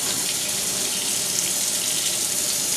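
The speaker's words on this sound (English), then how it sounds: "and then you're going to rinse them" Tap water runs steadily into a sink as makeup brushes are rinsed, a constant broadband hiss of flowing water, close and loud for the whole stretch with no talk.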